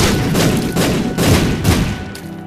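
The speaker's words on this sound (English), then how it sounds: "Explosions everywhere." Rapid chain of explosions in The Binding of Isaac, a dense, loud run of booming thuds and crackling blasts packed closely together.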